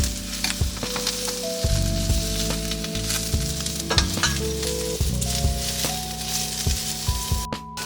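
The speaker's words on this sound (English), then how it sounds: "medium heat to sear the mushroom." Mushrooms sear in a generous amount of oil over medium heat for a steak dish, giving a steady, close sizzle with repeated clanking stirs and scrapes of a utensil in the pan.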